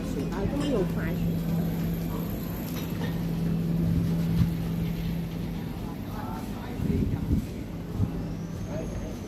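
Fast ferry engine at Cheung Chau, a steady loud low drone with a strong hum running throughout, with people talking over it and a few brief louder bumps near the end.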